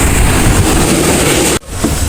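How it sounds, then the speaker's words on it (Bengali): Udaiyon Express train rolling into Sylhet station on arrival, a loud continuous rumble and roar close by, briefly dipping for a moment before resuming. "সিলেট স্টেশনে তিন নম্বর প্ল্যাটফর্মে প্রবেশ করছে চট্টগ্রাম থেকে চেয়ে আসা আমাদের এই ট্রেনটি"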